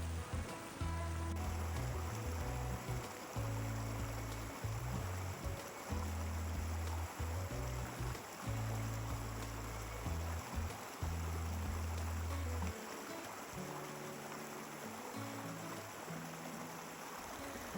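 Steady rushing of river water during a 4WD river crossing in the off-grid country of southeast Queensland, a broad continuous wash with rhythmic low rumbling swells that eases toward the end.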